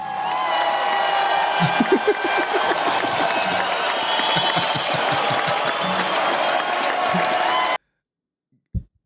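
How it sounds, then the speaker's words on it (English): Studio audience applauding and cheering a guest joining a live stream, a dense wash of clapping with scattered whoops that runs steadily for several seconds, then cuts off abruptly into silence before a brief final sound. "Give it up for a round of applause"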